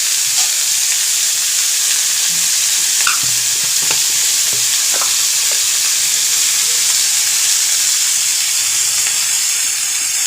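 Green chillies and vegetables fry in a pan under a loud, continuous hiss and sizzle, with occasional light scraping of a stirring spoon, close up and steady throughout with no voices.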